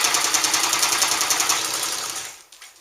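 A vintage Japanese Class 15 sewing machine stitches through bonded leather with a loud, rapid, even mechanical chatter close by, then slows and stops near the end.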